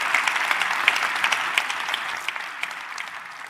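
A crowd at a Detroit event gives a round of applause, full clapping from many people at first that gradually thins and fades over a few seconds.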